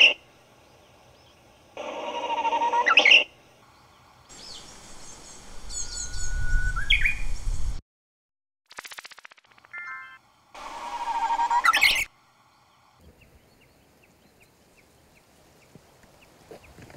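Japanese bush warbler song, inland type with a broken whistle introduction, heard as a few separate whistled phrases ending in bright flourishes, spaced between quiet gaps, clear and fairly close with no voices.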